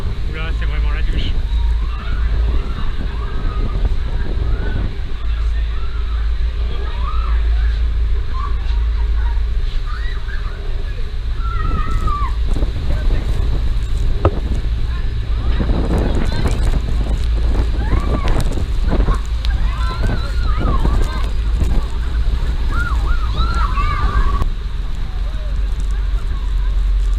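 Heavy spray and gusting wind at Niagara Falls batter the microphone with constant broadband roaring and rumbling buffets, while people talk intermittently underneath throughout the long stretch.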